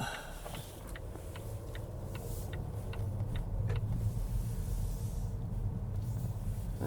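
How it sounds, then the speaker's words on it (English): A Volvo S60 T4 R-Design drives onto a main road with a steady low engine and road rumble heard from inside, while a faint, regular ticking like a turn signal sounds for a few seconds. "we're just going to take the car for a short drive"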